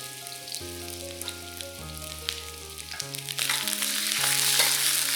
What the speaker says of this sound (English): Shallow fry these potatoes till they are slightly brown.